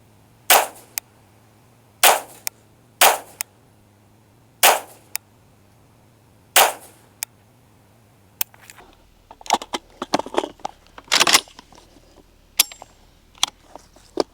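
Rifle shots fired at a target at a range, several loud, sharp cracks spaced a couple of seconds apart, each followed by a brief echo. Quieter clicks and rustling handling noise come after the shots.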